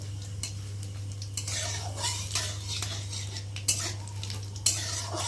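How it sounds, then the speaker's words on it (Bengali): Whole cumin seeds with a bay leaf fry in hot oil for a tempering, giving a steady close sizzle with spoon clinks and scrapes against the pan, over a low constant hum. "আর দেবো গোটা জিরে ফোড়নটা একটু ভালো করে লাল করে ভেজে নেব"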